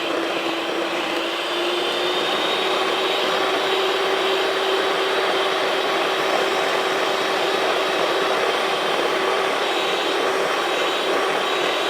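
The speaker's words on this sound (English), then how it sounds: "a handheld mixer." A handheld electric mixer whirs steadily for the whole stretch, a loud, even motor drone mixing a batter in a home kitchen, with no talking.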